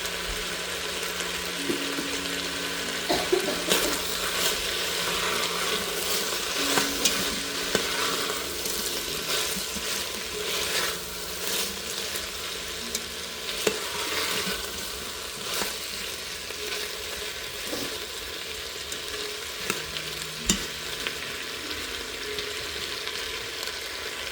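Vegetables for veg biryani frying and being stirred in a pot, a steady close sizzle with repeated scrapes and clacks of the spoon throughout.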